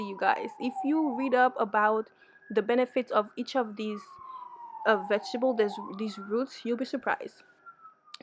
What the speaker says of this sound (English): This is my second time recording this because of the ambulance